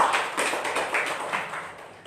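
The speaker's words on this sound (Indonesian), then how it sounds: "Beri tepuk tangan untuk Tuhan Yesus." A church congregation applauds, a brief burst of many hands clapping in an irregular patter that fades slightly over two seconds.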